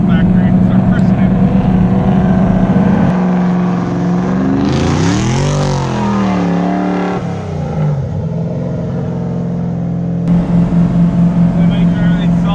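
A drift car engine roars during a ride at the Freedom Factory track, droning loudly then rising and falling through revs, with a voice speaking over parts of the run.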